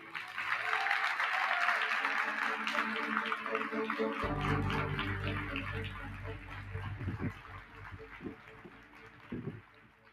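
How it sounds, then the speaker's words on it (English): An audience at a summit for subnational governments and cities breaks into a sustained round of clapping to welcome a speaker. The dense applause swells, then thins and fades as a low room hum and faint stray sounds take over. "round of applause for Mr. David Suzuki"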